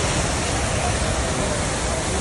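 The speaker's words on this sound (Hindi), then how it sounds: "जो सड़क है उसके ऊपर से भी पानी और मलबा बहता हुआ आ रहा है" Floodwater and debris rush over a road at Sahastradhara in Dehradun after a cloudburst, a loud, unbroken roar of churning water filling the whole stretch.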